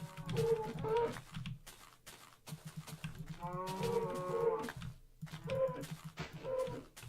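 A cow in Minecraft Alpha 1.1 moos in three drawn-out, wavering calls with short gaps between them, close and fairly loud, with no talking over them.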